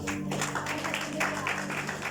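Members of a church congregation break into a short round of applause, a steady wash of many hands clapping together throughout.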